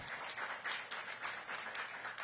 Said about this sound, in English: Let's give Daryl Gaston a big round of applause.